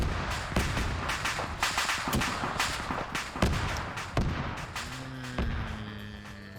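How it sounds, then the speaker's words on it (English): An armored personnel carrier cooks off in a military combat video game, its ammunition going off in a ragged string of sharp cracks and bangs that echo at middle distance for several seconds. "That's the sound of an APC cooking off."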